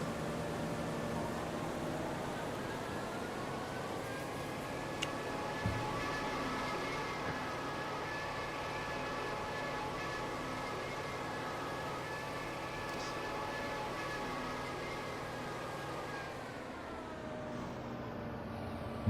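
A steady mechanical whine from worn vehicle bearings in the video game Farming Simulator 22 holds at a constant pitch over low road rumble, fairly faint, with no voices.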